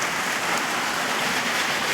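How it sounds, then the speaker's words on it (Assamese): Steady, dense rain pours down continuously, a loud, even hiss of drops striking surfaces with no voices present. "বহুত বৰষুণ পৰি আছে"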